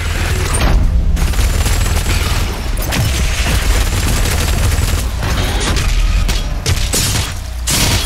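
Chain gun firing in Doom Eternal, a loud, dense stream of rapid shots with heavy booming impacts, sustained throughout with brief pauses between bursts and no talk.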